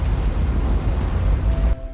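A massive explosion from a meteor impact in a film, a loud sustained rumbling roar with dense low booming that drops away abruptly near the end.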